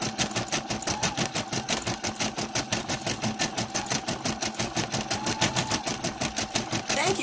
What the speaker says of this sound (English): I love how this comes together as you're watching the design stitch out.